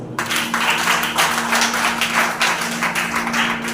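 A church congregation claps steadily during a Christian ministry sermon on loving one's enemies. The applause is a dense, continuous patter of many hands, heard alone over a faint low hum.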